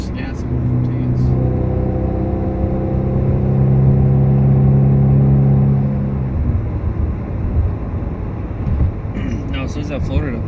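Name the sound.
turbocharged four-cylinder Chevrolet Camaro on E85 accelerating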